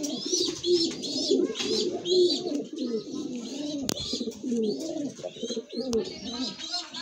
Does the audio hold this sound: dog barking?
no